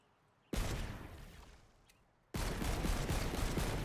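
Loud bursts of explosive gunfire from Tiny Tina's Wonderlands, during a dragon boss fight, one sustained barrage fading out, then another heavy volley starting abruptly.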